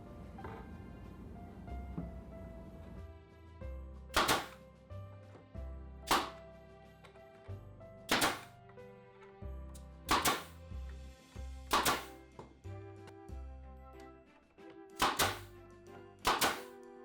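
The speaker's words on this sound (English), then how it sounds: "then I'll staple it down the side and staple the end piece on over here" A stapler fastens a Dollar Tree Christmas DIY craft piece with about eight sharp, evenly spaced thunks roughly two seconds apart, each close and distinct over soft background music.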